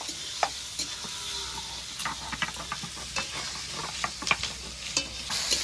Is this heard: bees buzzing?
no